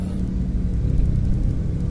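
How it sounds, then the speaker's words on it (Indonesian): Cars drive past on a road at night with a steady, close engine rumble and tyre noise that holds at an even loudness throughout. "Kalau malam gini kadang-kadang mobil main slap-slip seenaknya ya."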